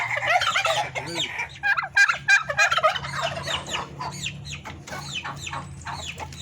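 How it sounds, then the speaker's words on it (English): Bourbon Red and blue slate turkeys gobble and cluck together in a noisy, overlapping chorus, close and loud, with bursts of rapid gobbling and other fowl calling nearby and no talk. "Those are blue slate turkeys"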